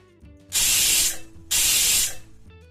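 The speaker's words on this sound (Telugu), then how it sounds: "చిన్న మంటపై 2 విజిల్స్ రానివ్వాలి." Pressure cooker whistling while cooking moong dal, two loud hissing steam bursts of about half a second each, close and forceful, separated by a brief pause.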